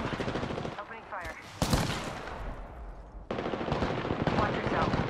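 Bursts of automatic gunfire in the video game Apex Legends, with rapid continuous shooting broken by a short pause and a sharp blast, then sustained firing resuming, loud and close.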